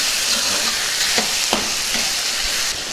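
Chicken and tomato pieces fry in a pan while being stirred, a loud, constant sizzle with occasional soft scraping knocks from the spoon, close and uninterrupted by voices.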